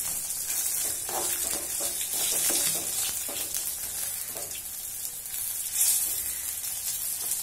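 Ingredients fry and sizzle steadily in oil in a pan for a quick home lunch dish, a constant close hiss with faint stirring scrapes and no voices.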